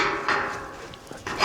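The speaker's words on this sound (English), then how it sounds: "luckily I've got a hammer with me. I can whack that back in" A hammer whacks a loose bottom gate hinge back into place on a cattle farm, giving a few separate metallic knocks with quiet gaps between them.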